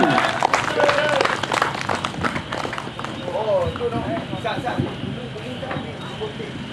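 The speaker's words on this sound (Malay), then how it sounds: "Satu tepukan yang kuat." A crowd applauding loudly, dense clapping that fills the space and slowly eases off, with some voices and cheers mixed in.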